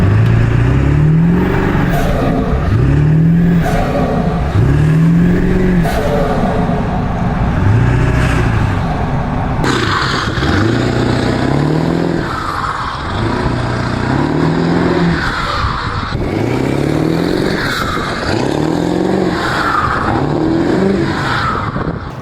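A loud truck engine revs repeatedly while accelerating, each surge rising with a high turbo whistle on top, close up with no talking.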